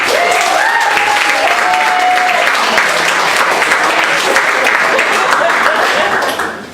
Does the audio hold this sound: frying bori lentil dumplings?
no